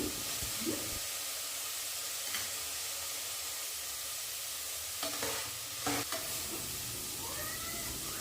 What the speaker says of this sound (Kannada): ಮೊಳಕೆ ಕಾಳನ್ನೆಲ್ಲ ಹಸಿ ವಾಸನೆ ಹೋಗೋವರೆಗೂ ಫ್ರೈ ಮಾಡ್ಕೊಳ್ಳಿ.